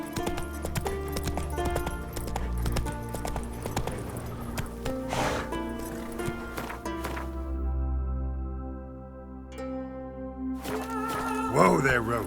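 Roach, Geralt's horse in The Witcher 3 video game, gallops with a rapid, continuous pounding of hooves, up close and loud, then slows and quiets before a brief snort or whinny near the end, over game music.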